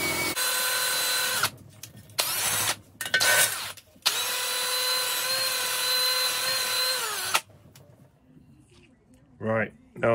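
Air drill spinning a wire wheel against a cylinder head from a 1920 Lister Q Type engine, loud whining bursts with short pauses, then a long steady run that cuts off, followed by faint handling noises.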